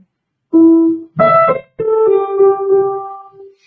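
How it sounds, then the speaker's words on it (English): A short right-hand piano phrase of sustained notes, several in succession, swelling gradually louder in a crescendo and clearly played alone. "the right hand with the crescendo would sound like this"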